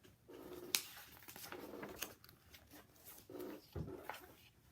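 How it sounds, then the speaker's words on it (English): A dog barks in several short bursts with pauses between them, fairly close and moderately loud. "Arf, arf, barked Mr. Wiggles."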